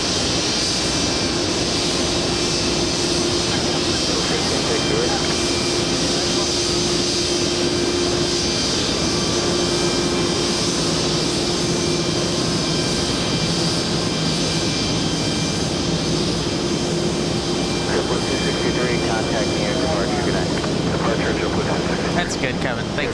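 A jet airliner takes off at JFK airport, its engines producing a loud, continuous roar that fills the whole stretch without letup.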